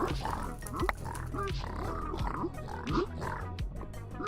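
War pigs in a slime video game give repeated short oinks and grunts in a busy, overlapping rhythm, steady and fairly close, with some voice mixed in.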